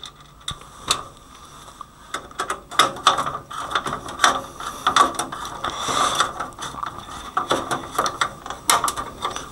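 Screws being tightened with a ratcheting screwdriver, giving a close series of quick clicking ratchet bursts in an irregular rhythm with short gaps between turns.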